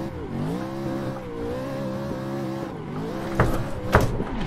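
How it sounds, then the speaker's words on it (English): A 1007hp VDC F22 Eurofighter car in a racing video game spins out, its engine droning steadily with shifting pitch before two short, sharp tire-scrub bursts near the end. "Whoops, and we spun."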